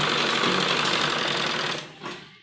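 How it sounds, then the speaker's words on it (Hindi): An electric sewing machine stitches a garment sleeve, running in a loud continuous steady whir for nearly two seconds, then slowing and stopping with a brief final burst. "और इसी तरह हम दूसरी बाजू में सिलाई लगाएंगे।"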